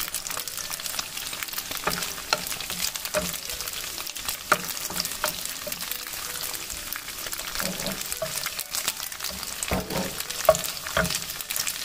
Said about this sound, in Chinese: 豆干丝先在不粘锅里炒2分钟，然后放入姜丝，再一块翻炒